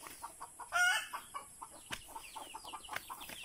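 Chickens cluck in short repeated bursts around a backyard chicken coop, with one louder squawk near the start and scattered bird calls behind, close and with no talk.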